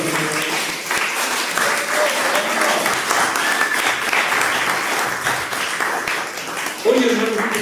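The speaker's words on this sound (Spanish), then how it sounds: "denle un aplauso al Señor." Church congregation clapping in steady applause during a Spanish-language sermon, with voices calling out over the clapping and a louder surge near the end.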